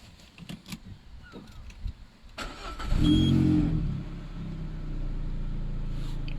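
A car engine with a freshly repaired exhaust cranks and starts, then settles into a steady, fairly quiet idle after some clicks and handling noises.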